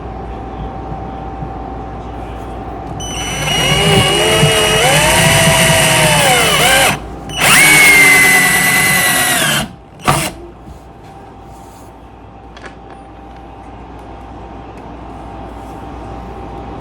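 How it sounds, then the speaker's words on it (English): A cordless power drill drives screws into a temporary wall. Two loud, close bursts of whining motor rise in pitch, each ending in a brief stop, and quiet room noise lingers afterward. "I'm in an awkward angle with this drill, so you can't see."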